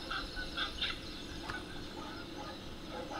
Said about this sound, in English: Almost sounds like geese.